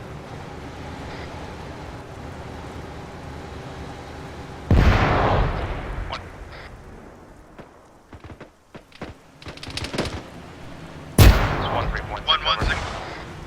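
During a video game ambush on a BTR, gunfire and Claymore mines go off: a quiet rumble breaks into loud, close blasts, then scattered shots and pops, with a voice speaking over the battle noise.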